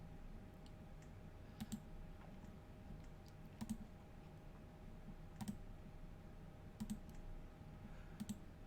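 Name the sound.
computer mouse clicking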